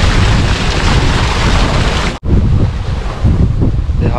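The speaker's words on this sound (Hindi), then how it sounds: "हवा पूरी चलती है" Strong wind roars over open farm fields of maize, a loud steady broadband rush with a brief cutout midway before the gusting resumes, no voices.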